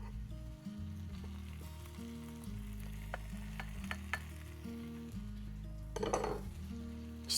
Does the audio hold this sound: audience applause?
no